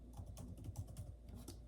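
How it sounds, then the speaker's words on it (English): Quick bursts of clicking as someone types on a computer keyboard, a close, quiet run of keystrokes in an irregular rhythm with no voices. "I'm just typing this in so we could get this for you guys."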